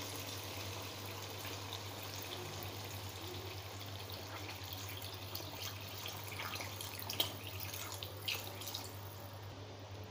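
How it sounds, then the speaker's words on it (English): Water running from a tap into a pot of chicken soup with seasoning cube, bay leaf and ginger, a steady soft pour with a few faint drips near the end, under a constant low hum. "So guys, I'm going to add my water."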